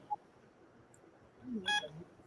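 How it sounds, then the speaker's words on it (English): A short, faint electronic beep with a few bright tones, heard once in a quiet room at a podcast recording on Capitol Hill. "You don't hear that beep?"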